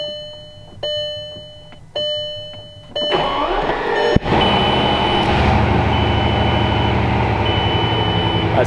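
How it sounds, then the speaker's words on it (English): Ignition switched on in a quad-turbo Bugatti Chiron hypercar: a crisp electronic chime-beep repeats about once a second, three times, then a deep engine roar swells and holds steady while a faint high tone sounds above it. "We're gonna turn the ignition on."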